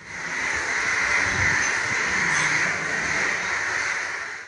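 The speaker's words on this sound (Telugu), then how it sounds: "అది తెలుసుకున్న మిగతా కాకులు వందలాదిగా అక్కడికి చేరి తమ నిరసన తెలిపాయి." A dense flock of hundreds of crows caws at once in Razole, Konaseema district, a loud, continuous, overlapping racket of harsh calls with no pauses, close and filling the space throughout.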